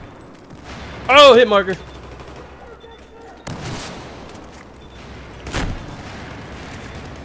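Gunfire and explosions in Battlefield 4 multiplayer, with an RPG fired amid bursts of shooting, sharp loud blasts at intervals while a player talks over the action.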